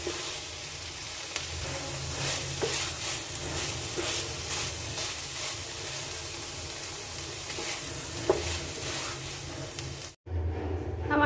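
Malabar spinach cooks with shrimp in a pan, giving a steady, close sizzle with occasional stirring scrapes. The sound runs continuously, then cuts off abruptly near the end before a short, quieter tail.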